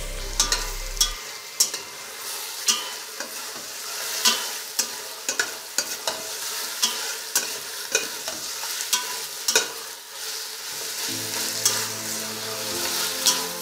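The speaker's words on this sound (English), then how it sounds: "You add chopped garlic and fry the meat for 5 minutes more." Mutton pieces frying with chopped garlic for Afghani shorba, a constant sizzle beneath frequent sharp scrapes and knocks of a spoon against the pot, close and steady, with no one speaking.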